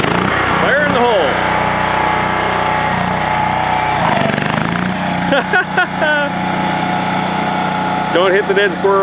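A John Deere 170 Super Stock lawn tractor racer built for agricultural fair racing runs its engine loud and close, revving and changing pitch as it moves, with a person talking over it.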